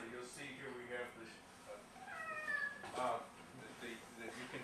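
A cat meows several times, drawn-out plaintive cries at moderate distance, with a person speaking softly in the background.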